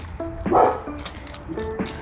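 A few sharp barks and yips come from the neighbours' dogs next door, a short irregular burst at moderate distance.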